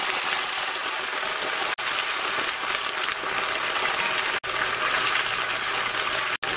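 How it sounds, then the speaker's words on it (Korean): Broth poured into eggplant stir-frying in perilla oil, a steady loud hissing sizzle and splash with only a few brief gaps. "어느 정도 볶아진 다음에 육수를 좀 부어줘요."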